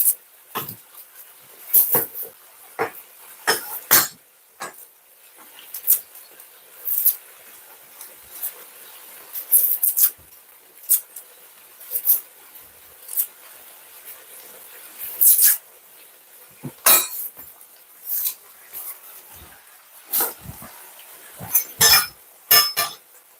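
A knife slices red onion as thinly as possible on a cutting board for a prawn spaghetti garnish, giving close, sharp, irregular taps separated by brief pauses, with no talking.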